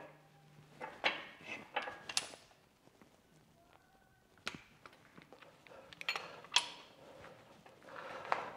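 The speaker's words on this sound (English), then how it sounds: "get the torque wrench out, start in the middle" A torque wrench gives several sharp, isolated clicks while tightening bolts on a high-compression 2.0 16V ABF engine. The clicks come at uneven intervals in a quiet workshop, close to the microphone.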